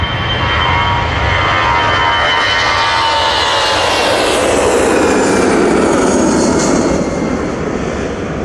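Airbus A320-200 airliner at Manchester Airport, its jet engines roaring loud and steady throughout, a broad continuous rush with a rising whine and slight swell as the aircraft moves past nearby.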